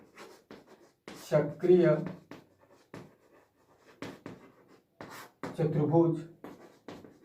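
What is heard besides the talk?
writing on paper during a maths lesson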